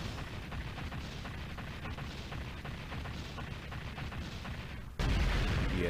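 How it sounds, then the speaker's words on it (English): Bomb blasts in the Battle Traverse shoot-'em-up game, a dense rumble of repeated booms and rapid gunfire-like pops, ending in a sudden heavier burst. "Did I use my final bomb to take care of it?"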